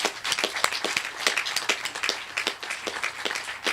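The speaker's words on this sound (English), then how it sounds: "let's just give them a big round of applause." Brisk, loud clapping from an audience at a ribbon-cutting ceremony for a housing development, dense and continuous for the whole stretch.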